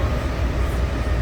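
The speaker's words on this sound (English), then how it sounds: "I grabbed the wrong train, and it looks like we're going for a bit of a ride until the next stop." A steady, loud rumble from inside a moving passenger train, with continuous low wheel and rail noise throughout.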